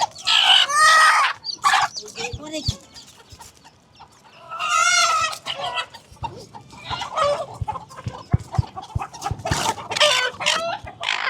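A hen and her chicks on a farm cluck loudly and often, with bursts of calls close by, quieter gaps between them, and scattered pecking taps.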